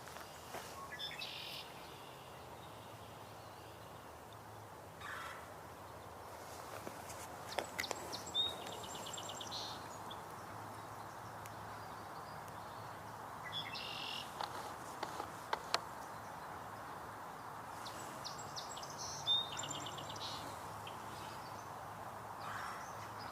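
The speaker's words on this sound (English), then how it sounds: "That is belted kingfisher." A belted kingfisher's rattling call comes in faint, brief bursts at a few points, far off over a soft outdoor background of insects and other birds.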